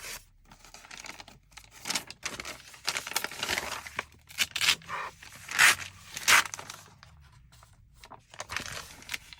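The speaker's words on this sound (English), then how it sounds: "And tear one in half." Paper torn by hand for a junk journal craft, with several rough ripping bursts of varying length spread across the span, close and fairly loud, some crinkling between them and no talking.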